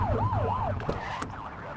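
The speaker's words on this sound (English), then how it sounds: "Get on their tail and blip the siren." A police car siren in the video game The Precinct gives a quick rising and falling wail, loud and close, then cuts off into engine and street noise.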